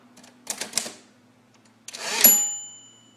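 Old mechanical typewriter tab key mechanism: a few quick clacks, then a longer whirring carriage slide ending with a ringing metallic tone, close and alone.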